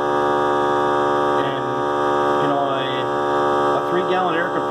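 A 3-gallon air compressor runs steadily with a loud, constant mechanical hum and drone, with no pauses, while a few faint pitch-sliding tones drift in over it.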